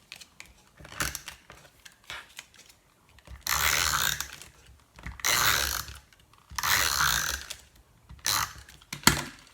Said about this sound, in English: I'm going to put some adhesive on this and stick this down using Snail for this